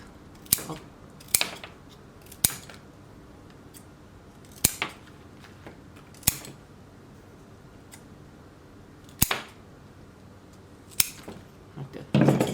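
Scissors snip through Monstera Peru stems between the nodes, a series of about eight crisp, isolated clicks spaced irregularly against a quiet background, close up and with no talking.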